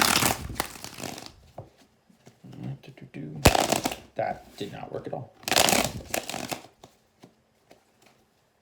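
Tarot cards riffle-shuffled in three crisp bursts, separated by pauses, while a person speaks between them.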